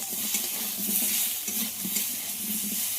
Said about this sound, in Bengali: পেঁয়াজটা আলুর সঙ্গে ভালো করে ভেজে নিতে হবে